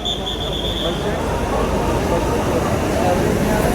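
A three-coach local train pulls into Srinagar station with a loud, steady low rumble and rolling noise that fills the short stretch, and a faint high tone fades early on.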